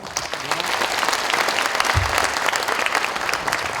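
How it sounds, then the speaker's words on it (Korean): Citizens and party members at a lawmaker's public report meeting give a warm round of welcome applause, dense and energetic clapping from a large crowd continuing throughout. "환영과 감사의 박수를 함께 치도록 하겠습니다"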